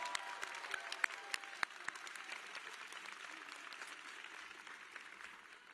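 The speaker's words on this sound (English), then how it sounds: "Let us show our appreciation to our senior class advisor with a well-deserved round of applause." A high school graduation audience applauds the senior class advisor, a broad, distant wash of many hands clapping steadily with a few crisp nearby claps standing out, holding level for several seconds.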